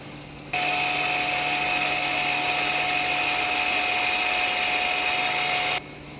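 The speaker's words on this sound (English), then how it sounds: "And it's going to completely open up the rear caliper." A Mercedes electric parking brake motor whirs steadily as it retracts to open the rear caliper, a close, constant mechanical hum starting abruptly and stopping after about five seconds, no talk.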